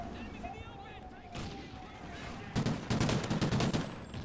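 Video game gunfire: after a quieter stretch with a single shot, rapid automatic bursts crackle loudly and continuously near the end, with a voice speaking partway through.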